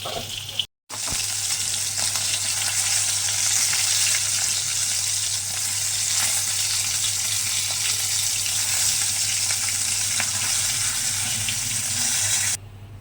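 Panch phoron spices sizzle in hot oil in a home kitchen. A loud, continuous frying hiss runs close throughout, steady apart from a brief cut near the start, with no talk.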